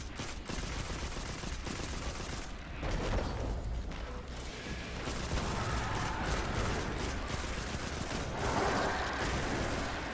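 Gunfire in the video game Destiny 2: continuous dense rattling bursts of shots with mechanical clatter, loud and sustained across the whole stretch, no talking.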